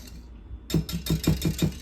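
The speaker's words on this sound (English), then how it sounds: "Going to give this a really good whisk." Whisk clattering rhythmically against a bowl of dry cake ingredients, six quick even strokes close up after a brief quiet start.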